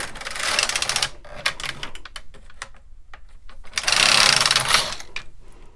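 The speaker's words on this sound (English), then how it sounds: "So I knit one row with the carriage in hold." A Brother KX350 or LK150 knitting machine carriage being pushed across a row, giving a rapid mechanical clatter in two loud passes separated by a gap of scattered clicks and knocks.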